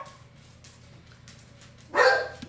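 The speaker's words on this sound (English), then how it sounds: "Sorry, the dogs are going crazy." A dog lets out a single loud, close bark late in the stretch after a quiet lull, near a rural home where a four-wheeler is running.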